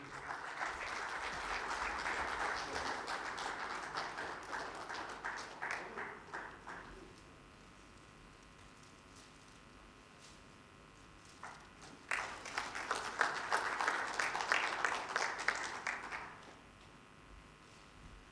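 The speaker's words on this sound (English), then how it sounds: "A big round of applause for him." Two bursts of audience applause at an ICAI inauguration ceremony, the first lasting about seven seconds and the second about four seconds, with a quieter lull of room noise between them. The clapping sounds moderately distant.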